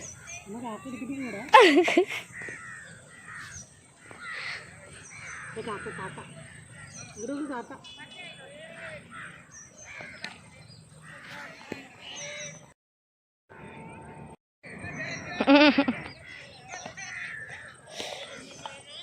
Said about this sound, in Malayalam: കാക്ക പറക്കണമെന്നൊക്കെ നോക്കുന്നുണ്ട് ആള്.